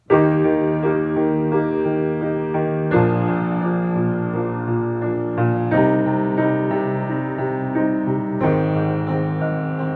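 Steady piano pop accompaniment with full, heavy octaves landing on each downbeat and softer, lighter chords filling the afterbeats, no voices.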